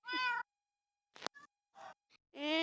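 A cartoonish cat in a video game meows twice, loud and clear, with brief clicks and blips between the calls.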